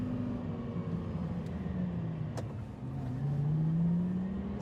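A car engine drones and revs while driving on a race track, the pitch sagging then climbing again as it accelerates, steady and fairly close with faint road noise and no talking.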